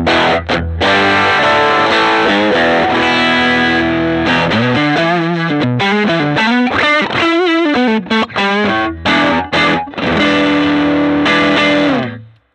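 An electric guitar on the bridge pickup plays a loud, sustained overdriven phrase through a Fender Blues Jr amp's stock speaker, held notes and bends with gritty distortion ringing continuously and then cutting off at the end.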